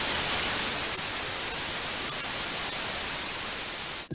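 Entirely random white noise signal with no periodicity, a dense, steady static hiss sustained evenly throughout and cutting off abruptly at the very end.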